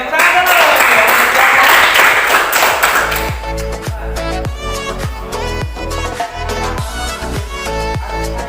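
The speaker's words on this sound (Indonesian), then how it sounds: "Oke, tepuk tangan dulu." A short burst of clapping from a classroom audience during an academic coaching session fades after about three seconds into rhythmic thumps and tapping under a musical tone that carries on to the end.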